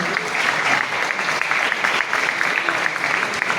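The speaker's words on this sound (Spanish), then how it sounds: "Un aplauso" Steady, dense applause from an audience honoring Ambassador Juan Álvarez at a history congress, continuous loud clapping filling the whole stretch without a break.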